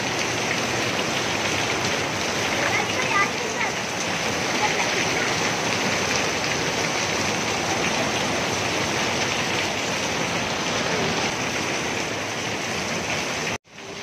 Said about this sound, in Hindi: ये बहुत शदीद किस्म की बारिश इस वक्त कराची यूनिवर्सिटी में आप मुलाहिज़ा फरमा रहे हैं।